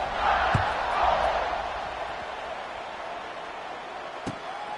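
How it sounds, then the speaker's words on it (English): A stadium crowd buzzes with a steady roar in a college football video game, Oklahoma at Alabama, after a score, forming a continuous wash of noise with a couple of faint thumps. "this crowd is buzzing after that last score"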